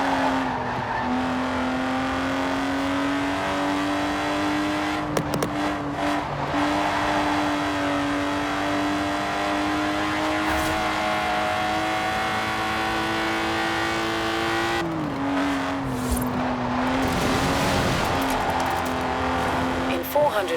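Lotus race car in the Forza Horizon 4 video game, engine droning at steady high revs with shifts in pitch and a few tyre squeals, continuous and loud, with a voice speaking over it.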